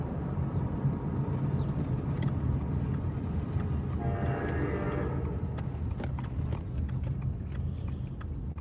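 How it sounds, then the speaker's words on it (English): An Amtrak train rumbles past on the rails between Jenison and Zeeland with steady wheel noise, a brief horn-like tone rising midway, recorded close and continuous. "that's what chasing the train from Jenison to Zeeland looks like"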